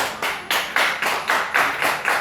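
A group claps in a quick, steady rhythm, about ten sharp claps in unison during a recreational clapping game, fairly loud and close with no talking.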